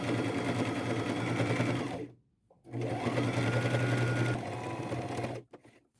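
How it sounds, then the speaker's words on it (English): Sewing machine stitching fabric along the presser foot edge with blue thread while old skinny pants are remade into bell bottoms: a loud, steady motor whir in two long runs broken by a short silence, then a brief stop near the end. "I'm just going to line my presser foot up with the edge of my fabric, super simple."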